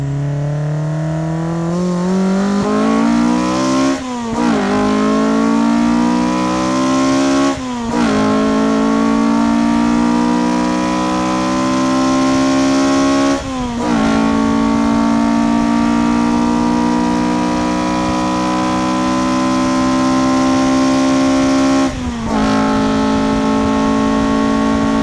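A Honda Civic Type R EP3 engine revs hard under a bridge, its pitch climbing steadily through each gear, with four quick breaks at the gear changes. The sound is loud and close.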